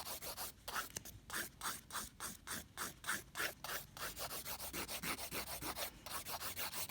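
Light rhythmic filing strokes smoothing NSI PolyPaste on a fingernail, a steady rasping rub repeated many times in close succession, close and fairly quiet, with no talking.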